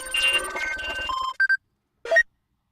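A tablet in a starship science-fiction setting rings with an incoming call, a burst of electronic ringing tones followed by two short beeps and a final brief chirp, fairly close and alone.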